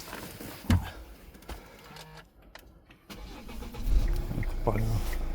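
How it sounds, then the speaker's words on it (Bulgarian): A 2016 automatic 4x4 car with 185 horsepower cranks and fires up after a few quiet seconds, then settles into a steady low engine hum, with brief talk and clicks earlier. "Да го запалим, да видите как работи моторчето."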